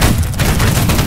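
A musket volley in Holdfast: Nations At War roars as a loud, sustained rolling blast of many shots fired together, heavy and booming from start to end.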